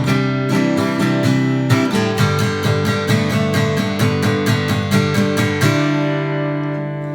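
Strummed electric guitar chords of a song's outro, starting on A, ring out in a steady, quick rhythm, shifting chords partway through before a final chord sustains and fades.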